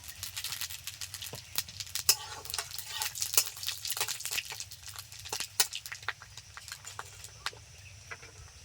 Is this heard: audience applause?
no